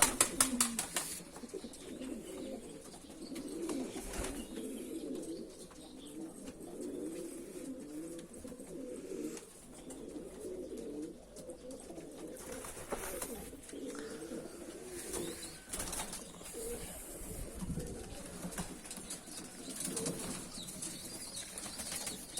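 Flying pigeons coo and shuffle inside a coop, a continuous low murmur of soft calls with occasional wing flaps, moderately close and steady throughout.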